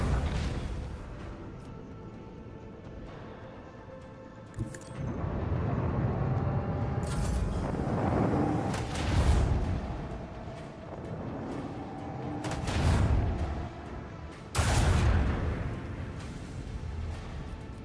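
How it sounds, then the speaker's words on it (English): Heavy booming volleys from macro cannons on a starship in the Warhammer 40,000: Rogue Trader video game, several loud blasts over a rumbling battle soundscape. "Macro cannons, annihilate them."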